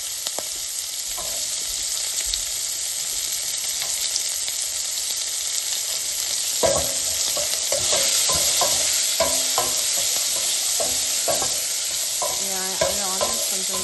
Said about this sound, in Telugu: ఇప్పుడు ఆనియన్ చేసి వేస్తాను